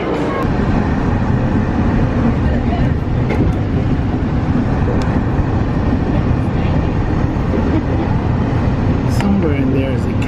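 Ride aboard the Magic Kingdom monorail at Disney World, a steady rolling rumble and hum of the moving train with voices talking over it.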